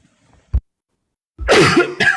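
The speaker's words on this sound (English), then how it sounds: "I didn't mean to cough right in there." A man coughs near the mic just after using his inhaler: one short dry cough, a pause, then a harsh, longer hacking cough with a brief second burst.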